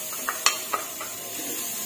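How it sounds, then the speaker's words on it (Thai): A few light scraping taps of a utensil in a dry pan as chilies dry-roast without oil, over a soft continuous hiss, quiet and close. "เดี๋ยวเราจะคั่วพริกให้หอมค่ะ"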